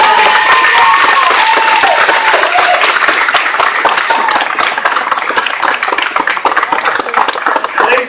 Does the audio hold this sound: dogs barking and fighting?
no